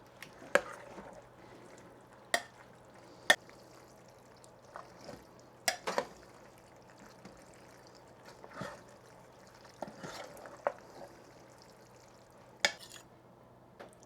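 Cooked pasta being stirred in a pan, with sparse, irregular scrapes and knocks of a utensil against the pan over a low, steady hum, close and fairly quiet.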